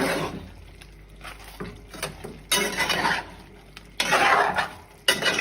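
A spoon stirs seafood sauce thickened with cornstarch slurry in a pot, scraping and clinking against the metal in bursts, loudest near two and a half, four and five seconds, close and without talk.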